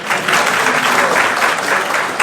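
Steady applause from a lecture audience welcoming the hero Ram's entry in a discussion of Bhavabhuti's play Uttaramacharitam, with dense, continuous clapping that stays loud and even for about two seconds.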